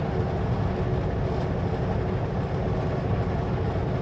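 A heavy rumble rolls on continuously, low and dense, like a long train of cars passing steadily nearby with no voices: a freight train carrying containers in British Columbia, Canada.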